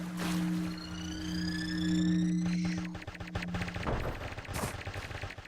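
In the online shooter game Offensive Combat, rapid bursts of gunfire crackle alongside a droning tone, followed by scattered shots and clatter, with no speech.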